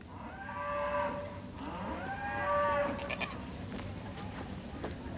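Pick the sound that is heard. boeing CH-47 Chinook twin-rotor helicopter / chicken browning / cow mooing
cow mooing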